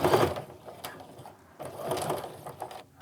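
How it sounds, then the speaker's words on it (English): A sewing machine stitches back and forth to reinforce a wristlet strap, giving short mechanical bursts with pauses between them, close and moderately loud. "Sew a little more. I'm gonna reinforce some more."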